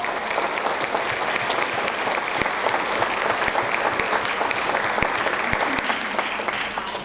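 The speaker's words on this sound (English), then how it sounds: "Let's give them one more round of applause." A school audience gives a long, dense round of applause for sixth grade award winners, steady and full throughout with a few sharper individual claps standing out.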